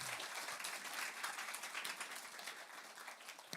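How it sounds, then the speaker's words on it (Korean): A church congregation breaks into sustained applause, a dense, steady wash of many hands clapping at once, moderately distant and even throughout. "우리 주님께 영광의 박수 드리겠습니다"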